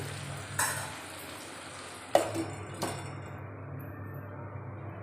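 Potatoes and chopped tomato cook in a pan with a soft, low sizzle, broken by a few sharp clinks of a spoon against the pan.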